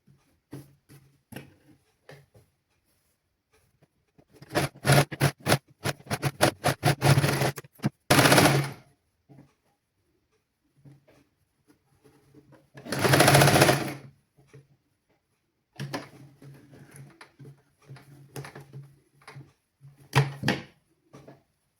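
A sewing machine stitching children's clothing fabric in a tailoring class, running in bursts of rapid, rattling mechanical stitching separated by quiet pauses, close and clear with no talk.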